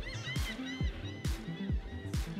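Seagulls squawk while fighting over a bone, with harsh honking calls repeating and overlapping at a moderate distance.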